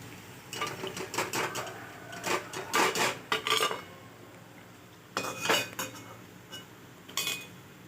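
Fried snack pieces, golden brown, being lifted from the pan onto a dish, with clattering metal utensil and plate clinks in short bursts, a pause, then a few more scrapes and clinks; close and moderately loud, no talking.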